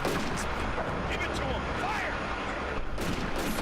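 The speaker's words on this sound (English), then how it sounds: "the Italian light gun is now targeting our mortar unit" An Italian light gun firing in the WWII desert wargame Combat Mission: Afrika Korps, a steady wall of booming gunfire and rumbling blasts that runs without pause for a few seconds, with some voice-like sound mixed in.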